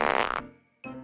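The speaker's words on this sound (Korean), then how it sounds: "두 사람은 마지막으로 힘껏 방귀를 뀌었어요" A cartoon fart sound effect from a children's folk tale: a long, loud, sputtering blast, then a brief pause and a second, shorter toot, with no voices over it.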